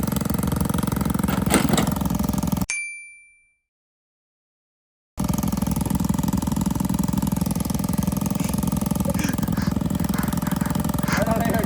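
A 20-year-old Honda Dax motorcycle engine runs outside in the snow, a loud, close, continuous mid-pitched putter that cuts out abruptly into a few seconds of silence and then resumes just as strongly.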